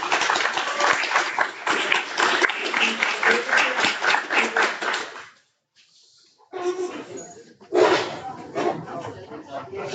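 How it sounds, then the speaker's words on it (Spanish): Audience applause following a lecture on ChatGPT, philosophy and education, dense and steady clapping for about five seconds, then a brief lull before scattered claps and talk resume. "Un aplauso de nuevo para Germán."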